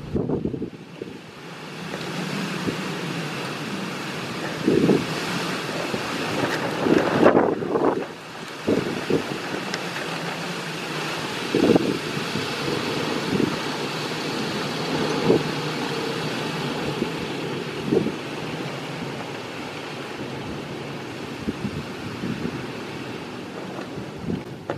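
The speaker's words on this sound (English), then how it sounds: "Wind out here." Strong wind gusting outdoors around a home-built Hugh Piggott axial flux wind turbine, a continuous rushing roar with buffeting microphone thumps that swell and fade, heard alone.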